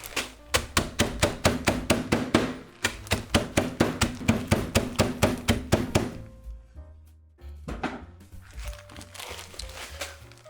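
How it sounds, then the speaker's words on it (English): Fast, steady hammer blows thud onto crunchy Cinnamon Toast Crunch cereal in a crinkling Ziploc bag, then pause and resume with softer rustling and scattered taps. "putting it into a Ziploc bag and just have fun smashing the hell out of it."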